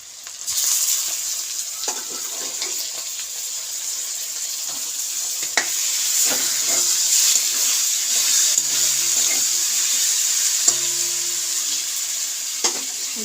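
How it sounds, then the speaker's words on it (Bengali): Taro leaves are stirred in a pan with fried shrimp: a constant hissing sizzle with scattered spoon scrapes and soft knocks, close and fairly loud, and no talk. "সম্পূর্ণ কচুর শাকটা দিয়ে, কচুর শাকটা আমাকে নাড়তে থাকতে হবে"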